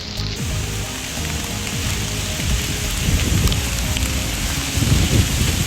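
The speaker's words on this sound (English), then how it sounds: "Literally raining so hard." Heavy rain pours hard and steadily outdoors, a dense close hiss with spattering drops and low rumbles, rising slightly toward the end.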